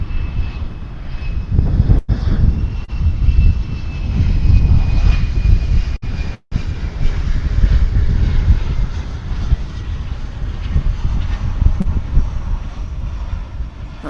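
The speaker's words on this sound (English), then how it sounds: "It's an Airbus A321." An American Airlines Airbus A321 jet airliner in Stand Up to Cancer livery at Dallas Fort Worth airport, its engines giving a loud, steady roar that holds throughout with a faint high whine on top.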